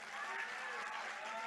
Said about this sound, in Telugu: ఇంకొద్ది గట్టి కొట్టాల చప్పట్లు